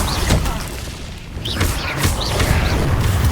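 Incendio fire spell cast in the Hogwarts Legacy video game, heard as a burst of booming whooshes and crackling bursts layered with game effects, fairly loud and steady across the moment with faint voice-like sounds mixed in.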